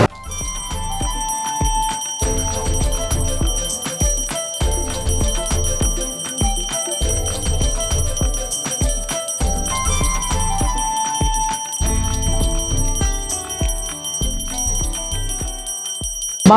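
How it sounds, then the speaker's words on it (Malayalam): Bell rung repeatedly as a huge Bahubali dosa is carried out at a Kerala feast, bright metallic ringing over loud rhythmic music with steady heavy beats throughout. "ബാഹുബലി ദോശ ഇങ്ങനെ മണിയടിച്ച് വരുന്നുണ്ട്."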